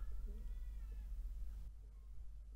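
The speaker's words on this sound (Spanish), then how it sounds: "¿hay gatos dándose de hostias allá afuera o qué pasa, tío?" Cats fighting somewhere outside let out faint, drawn-out yowls and meows early on, distant and muffled under low background hum.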